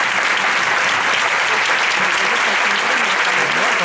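A crowd at a Pilares 2024 gathering in Puerto de Sagunto, Valencia, applauds a rondalla string group and its director, a loud, dense, unbroken clapping that fills the whole stretch, with faint voices underneath.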